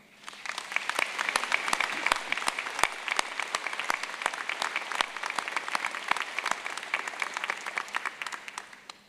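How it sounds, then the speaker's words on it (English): Applause fills a hall at a university convocation ceremony, many hands clapping in a dense, even crackle with sharp individual claps standing out, sustained for around nine seconds at moderate distance before tapering off. "let's show our thanks with a round of applause"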